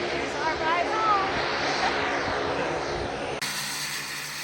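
A seaplane's engine drones steadily and fairly loud as it heads out for the return flight to Juneau, Alaska, with voices talking over it before the sound cuts off abruptly near the end.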